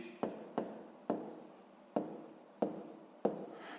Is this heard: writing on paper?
yes